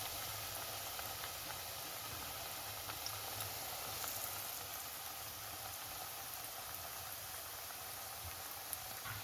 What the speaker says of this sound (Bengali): এই যে তেল গরম হয়ে গেছে, দিয়ে দিচ্ছি।